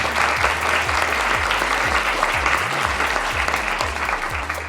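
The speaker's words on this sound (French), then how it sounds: "par Jen, que nous remercions et que nous applaudissons." Applause from a festival audience at a live podcast recording in Rennes, dense and sustained at even loudness, a full crowd clapping steadily throughout.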